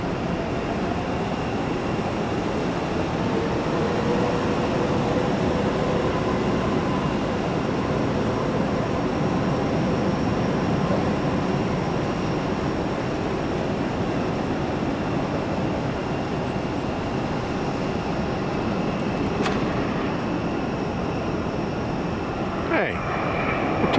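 A jet airliner flies near an airport, its distant engine roar a steady, broad rumble that holds throughout, with a couple of brief clicks near the end.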